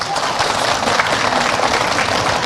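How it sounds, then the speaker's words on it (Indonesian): Audience applause at an Islamic majelis taklim gathering in Cirebon, a steady dense wash of clapping from a crowd that holds at even loudness throughout without pause. "Masya Allah, tepuk tangan dulu."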